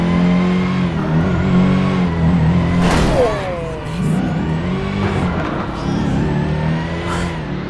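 A Jeep with a 392 V8 making 707 horsepower, in GTA 5, revs loudly and close with a deep, continuous engine roar that surges and dips over several seconds, along with tire or brake squeals.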